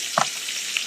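Food sizzles in a pan in the Roblox game Lifetopia's restaurant, a steady hiss with a brief clatter near the start, heard alone with no talk.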